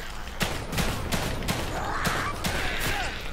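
Gunfire in The Evil Within 2: a run of loud, evenly spaced shots, roughly six at half-second intervals, close and clear over a dark ambient game backdrop, with no voices.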